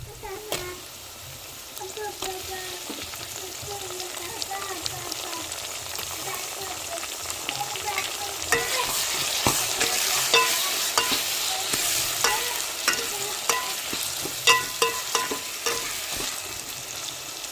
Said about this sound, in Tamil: வெங்காயம் தக்காளி பச்சை மிளகாய் இஞ்சி பேஸ்ட்லாம் வதங்கி வந்துருச்சு